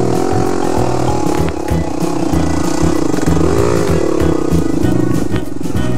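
A 2014 Husqvarna TE 310 R dirt bike rides along in first gear, its engine droning loud and steady close by, with throttle surges and a brief dip midway.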